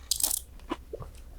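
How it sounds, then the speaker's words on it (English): Chewing of a bite of watermelon guacamole with avocado gives a short burst of close, crisp crunching, followed by a few softer mouth sounds and quiet pauses. "I can hear the crunch of the avocado."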